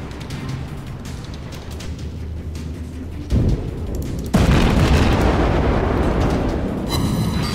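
A torpedo strike in the naval combat game World of Warships lands as a heavy booming blast, with a sharp jump in loudness partway through and a broad rumbling roar sustained afterward over continuous battle noise.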